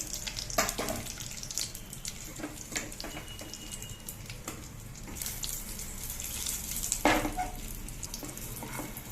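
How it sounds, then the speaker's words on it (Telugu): Cashews, raisins and almonds frying in hot ghee for wheat rava prasadam, with a steady close sizzle and scrapes of a spoon stirring in the pan. "నెయ్యి వేసాం కదండి, జీడిపప్పు వేస్తున్నాను, కిస్మిస్ వేస్తున్నానండి, బాదం వేస్తున్నాను."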